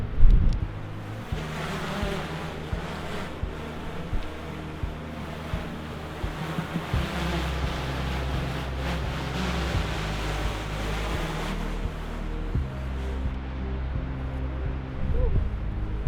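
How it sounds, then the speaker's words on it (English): Strong wind roars and buffets the microphone continuously, a heavy low rumble with gusts throughout and no speech. "That was very windy."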